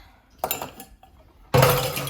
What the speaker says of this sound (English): I'm just going to kind of mix it up a little bit.